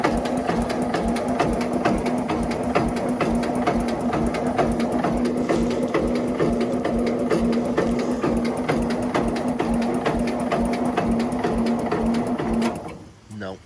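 A Jacobsen Chief 1200 garden tractor engine cranks on a cold start, a steady rapid chugging of the starter turning the engine over for many seconds without catching, then stopping abruptly at the end.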